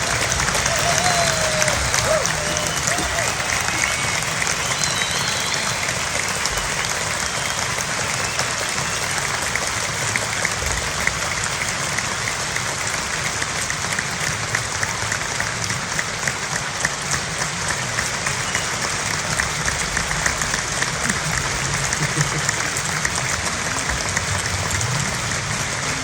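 Sustained audience applause at a film music concert, honoring the orchestra under its conductor; dense, steady clapping fills the hall without letup, with faint voices mixed in.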